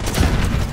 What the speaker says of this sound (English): That's a rocket gun.